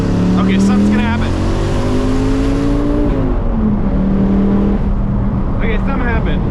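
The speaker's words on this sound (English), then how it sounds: "I'm going to punch it and nothing's going to happen" A car engine revs hard from about 3,700 RPM as the driver floors the accelerator, rising pitch sweeping upward, loud and close from inside the cabin, with a brief voice over the engine.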